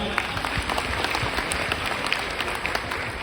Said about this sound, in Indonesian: Ya tepuk tangan dulu untuk kita ya.